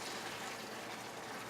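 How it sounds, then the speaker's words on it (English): Starchy pasta water poured into a pot of marinara sauce, a steady, even liquid rush with a faint fizz, close and continuous with no talking. "I'm going to add a little bit"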